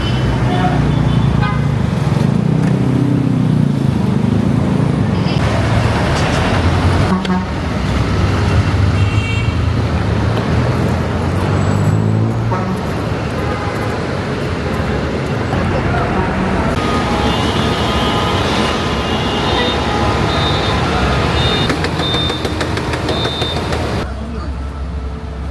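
Buses and heavy road traffic at a busy Philippine bus stop, a steady loud engine rumble with car horns tooting at intervals, under people talking nearby.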